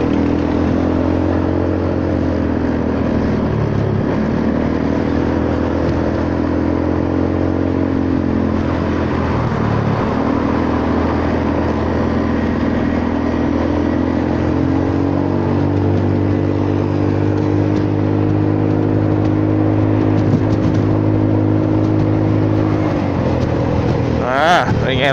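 A Honda Forza 300 scooter engine drones steadily while riding up a bridge on light throttle, loud and continuous with gentle rises and dips in pitch, plus a brief clatter near the end.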